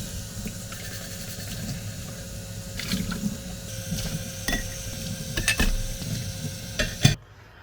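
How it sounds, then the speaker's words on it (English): Dishes get washed in an RV sink: running water with clinks and clatters of plates and utensils, a few sharp knocks toward the end before it stops abruptly. "first I'm gonna do the dishes so that way they dry out and they'll be ready to go."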